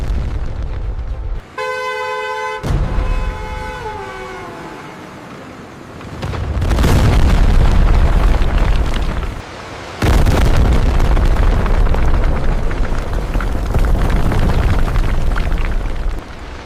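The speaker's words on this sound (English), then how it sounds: "To extract the limestone, controlled blasting is necessary." Controlled blasting at a limestone quarry rock face: a warning horn sounds first, then two loud, deep explosions tear through the quarry, each followed by a long rumbling roar of breaking rock.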